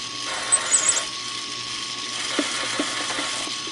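A primer pocket reamer scrapes and clicks in a 223/556 brass casing, giving a few faint, short rasping ticks and small scratches close by.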